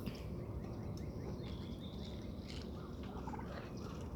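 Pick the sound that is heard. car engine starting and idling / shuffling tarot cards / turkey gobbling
turkey gobbling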